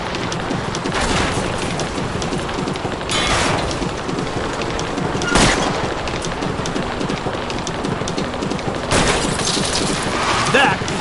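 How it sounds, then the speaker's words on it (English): Gunfire aimed at a car's tires in L.A. Noire comes as a few sharp shots over a loud, rumbling wash of driving noise. "I'll try to shoot out his tires."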